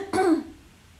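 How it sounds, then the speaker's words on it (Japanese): A single short cough, close and fairly loud, then quiet. "ちょっと待って、咳したい"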